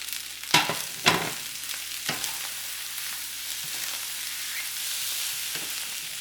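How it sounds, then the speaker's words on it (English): Chicken andouille sausage fried rice sizzles steadily in a pan, with a few sharp scrapes from stirring near the start, then a continuous even frying hiss, close and with no voices. "Stir everything all together. We're going to add the sausage back in."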